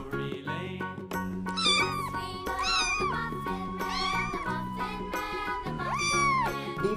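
A cat meows repeatedly in drawn-out, rising and falling cries over a steady musical backing, loud and close throughout.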